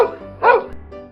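A dog in a narrated story gives one loud, short bark in the middle, set apart from a quieter, steady background.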